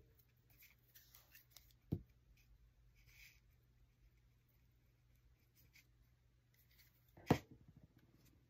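Scissors cut paper ephemera for a journal, two sharp close snips spaced several seconds apart against faint rustling and near silence.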